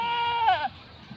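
A goat on a goat farm gives a single short, wavering bleat, close and clear, that fades into quiet farmyard background.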